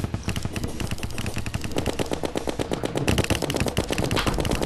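Several minishark guns firing together in Terraria, a dense, loud, rapid-fire rattle of overlapping shots that barely lets up, with no talking over it.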